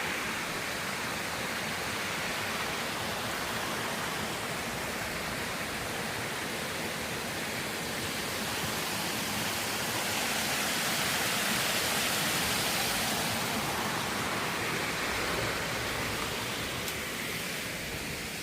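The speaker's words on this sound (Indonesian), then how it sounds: "Jadi hening, cuman ada suara-suara air kayak gini" Steady rushing water flows continuously, a broad even roar like a river running nearby, with no voices.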